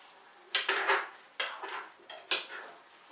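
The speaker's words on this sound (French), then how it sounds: "on remue. On intègre bien les lardons aux pommes de terre" Utensil scraping and clattering as potatoes and bacon lardons are stirred in a pan for a gratin, three distinct bursts of close stirring with no talk.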